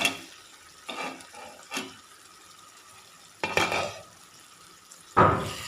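Chicken roast stirred in a pan, several bursts of scraping and shuffling as a spoon turns the thick masala, with a louder clatter near the end over a faint simmer.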